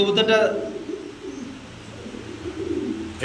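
Pigeons cooing at a pigeon farm, soft low coos close by, with a voice speaking over them.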